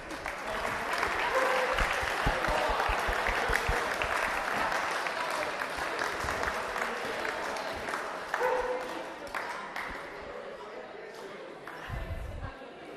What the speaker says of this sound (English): I'd like to give yourselves a big round of applause for coming